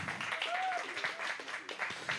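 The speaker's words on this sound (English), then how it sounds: "Let's give him another round of applause" A Sunday service congregation gives a round of applause, fairly quiet and somewhat distant, with voices mixed in among the clapping.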